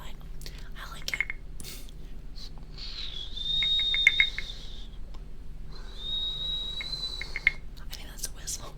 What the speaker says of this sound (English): It's like a very high pitch whistle.